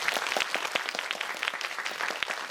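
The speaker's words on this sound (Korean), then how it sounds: "저희 클래스 원 친구들에게 큰 박수 부탁드리겠습니다" Audience applause for the cast at a Netflix series screening event, a steady patter of many hands with individual crisp claps standing out, moderately loud and continuous.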